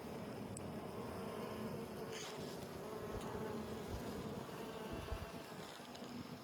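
Honeybees buzz around an open hive during a spring inspection. The hum is faint and continuous, with a few closer passes as bees fly near, over quiet outdoor background.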